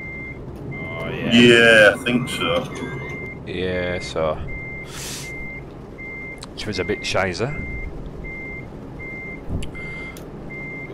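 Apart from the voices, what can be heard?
truck reversing beeps, Euro Truck Simulator 2 video game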